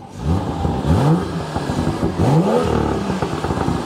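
A custom BMW M140i with a Stage 2 tune revs hard in two rising surges, its engine note climbing loudly and close up with a gravelly edge and no voices over it.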